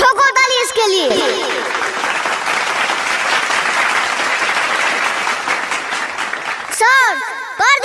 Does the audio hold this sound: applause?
yes